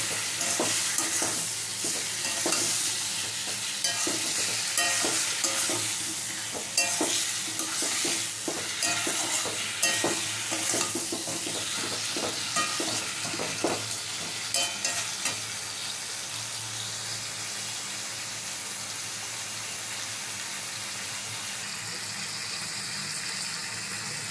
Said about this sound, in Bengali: এবার একসাথে সব মিশিয়ে মশলাটা ভালো মতন কষবো